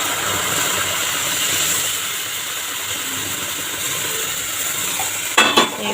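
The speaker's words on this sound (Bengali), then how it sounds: "গ্যাসটা কমিয়ে একদম হালকা একটুখানি নেড়ে দেবো" Semolina stirred in a pan over low gas gives a steady frying hiss, closing with a brief scrape and clatter of a utensil against the pan.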